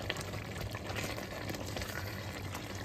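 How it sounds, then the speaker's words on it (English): Spaghetti simmers in sauce in a pan on medium-low heat, giving a soft, steady bubbling and sizzling that carries on faintly and without a break. "I'm going to bring this back to a boil. I keep it on medium low and just keep it boiling."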